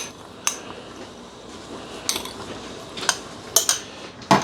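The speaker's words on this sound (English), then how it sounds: "I'll try to mix that in a bit, get it distributed throughout the flour." A utensil mixing salt into flour in a bowl while baking bread, with scattered sharp clinks and taps against the bowl over a soft scraping hush, irregular and close, no talking.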